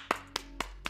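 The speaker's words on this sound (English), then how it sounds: "Fred deserves a round of applause" Four sharp hand claps sound in a quick, evenly spaced sequence, close and distinct, like a single person giving a short burst of applause.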